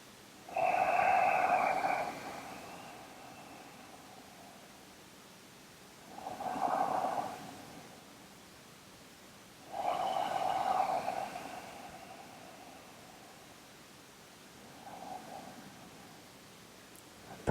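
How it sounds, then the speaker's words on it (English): Slow, deep breaths during a yoga session, four long airy exhales spaced a few seconds apart, close and fairly soft, the last one fainter. "Few more breaths here."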